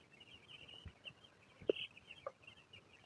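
Young chicks recovering from a cold give a few faint, scattered clucks and peeps against a quiet background, with sharper calls near the middle and end.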